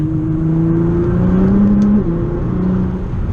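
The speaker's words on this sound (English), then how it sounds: "Do a small acceleration in 3rd gear." A Nissan GT-R fitted with a 4-inch stainless steel exhaust pulls through a short acceleration in third gear, a close, loud, deep engine drone rising in pitch steadily, with no talking.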